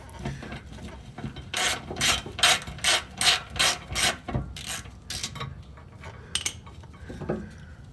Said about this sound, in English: back to that 1/4" ratchet that I'm gonna need to make sure that I remove this little access panel here on the skid plate